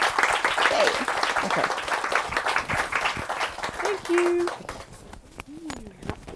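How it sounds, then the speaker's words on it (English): An audience at a talk on fugitive feminism gives a round of dense applause that gradually thins, with people speaking over it near the end. "But let's give a big round of applause."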